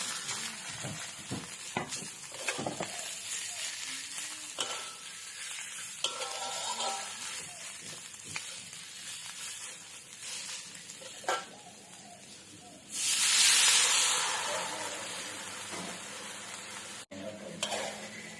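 Pounded jackfruit stir-fried with curry paste in a pan, starting as soft frying with spatula scrapes and taps and rising to a loud hiss of sizzling partway through, with no speech.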